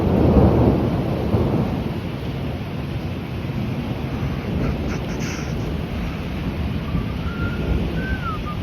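Thunder rumbles through a severe thunderstorm over Midtown, a loud roll at the start that fades into a long, low, steady rumble with rain-like noise beneath.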